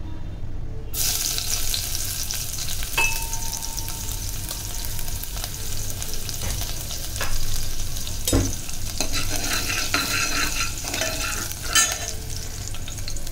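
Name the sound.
frying crushed garlic in hot coconut oil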